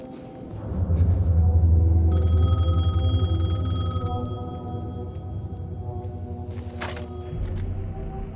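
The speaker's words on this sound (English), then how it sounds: "The payphone was ringing." A payphone in the Alan Wake II video game rings in a steady electronic trill, several bursts over a low rumbling ambient drone, fairly close and clear.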